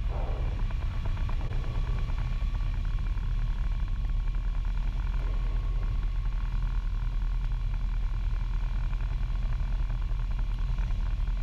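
A Piper Arrow's piston engine drones steadily in flight as power is eased back on the landing approach: a continuous, even rumble close by with no voices.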